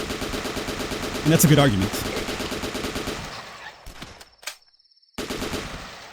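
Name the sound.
gunfire in the video game The Last Stand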